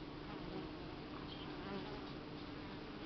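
Honeybees buzz around a hive headed by a Buckfast queen, a dense continuous drone close by that stays steady throughout, with no talk.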